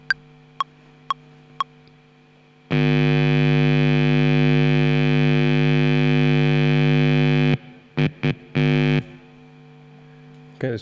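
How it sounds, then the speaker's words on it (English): A loud, steady distorted tone with a strong buzzing hum rings out for about five seconds after a few sharp ticks, produced by touching an electric guitar cable running through an amp simulation in Ableton, then breaks into short choppy bursts. "When I touch the cable, you get this nice tone."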